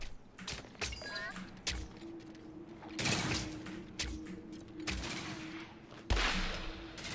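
Several heavy 12-gauge shotgun blasts fired in the battle royale game Scavengers, each a sharp broadband boom with a brief tail, spaced a second or more apart over steady game ambience.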